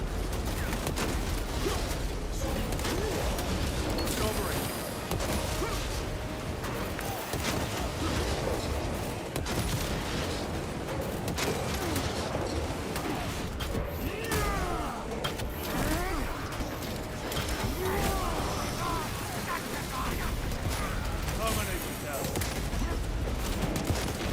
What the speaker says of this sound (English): It just seems like a normal melt-a-gun. Fire's slower, though.